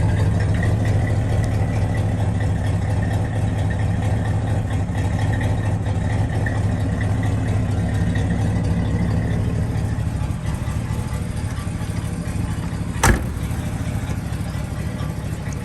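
A 1971 Chevrolet Chevelle idling steadily with no throttle, a low, even engine rumble held for the whole stretch, close by, with a brief sharp click near the end.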